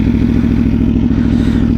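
An Aprilia 1100 V4 Factory motorcycle, engine warm, runs with a loud, steady, close-up V4 idle rumble throughout the short stretch, with no clear rise in revs.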